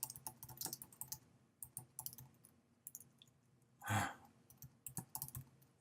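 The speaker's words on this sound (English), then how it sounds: "type it, and then type a return" Close, quiet typing on a computer keyboard comes in short bursts of key clicks separated by pauses, with one louder thump from a key press partway through.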